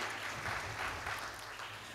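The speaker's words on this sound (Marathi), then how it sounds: "जोरदार टाळ्या आपल्या मधुरासाठी" An audience at a book launch ceremony claps steadily, a dense, even wash of applause that holds for the full two seconds.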